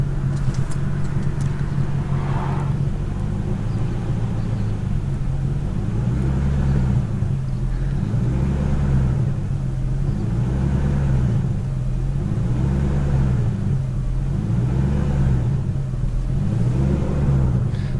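A BMW E39 540i with the 4.4-litre V8 idling and surging at low rpm, a steady close engine rumble that rises and falls in a regular cycle of about two seconds, with no talking.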